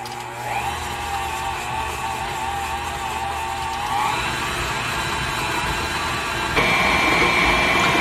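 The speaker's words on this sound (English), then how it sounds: "Okay, so on to the mixer we go, and I will show you what the end product looks like." Electric stand mixer beating pumpkin cream cheese pound cake batter, a steady motor whine with a whirring hum that steps up in pitch twice as the speed rises, running loud and continuous with no talking.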